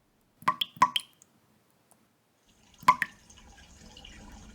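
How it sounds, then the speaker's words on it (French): Three clear water drops plop one after another, close and crisp in a quiet space, followed by a faint watery trickle. "Oui, moi, une goutte d'eau."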